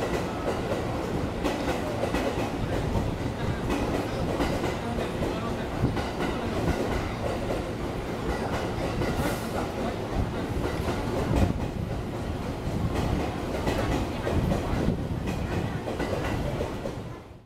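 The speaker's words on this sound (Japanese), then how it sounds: "敷島が新潟に向けて発車。" Steady loud rumble of the Shikishima train departing for Niigata, rolling along with rhythmic wheel clatter, continuous throughout.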